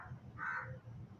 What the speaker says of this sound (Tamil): இந்த பக்கம் என்னன்னா காக்கா கத்துது